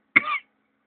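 A single short, close cough bursts out once and stops, followed by silence.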